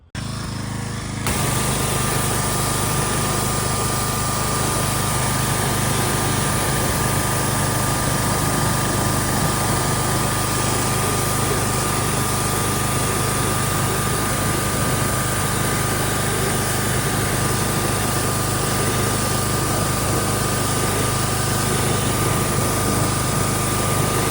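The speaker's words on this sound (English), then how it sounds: "I'm going to go ahead and get my pressure washer set up" A gas pressure washer engine starts, then runs at a loud, steady drone with a constant mechanical whine and vibration throughout, close by.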